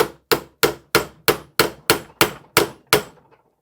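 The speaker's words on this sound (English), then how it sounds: "We're going to take a hammer now" Ten sharp metallic hammer strikes tapping a bolt out of a Yeti SB 5.5 Switch Infinity bike frame, close and evenly spaced at a steady rhythm, each with a brief ringing decay, no voices.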